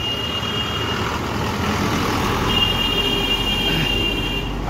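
Bus number 2047 slowly pulling away on a roadside, a loud steady engine rumble with road noise and a faint high whine, continuous throughout.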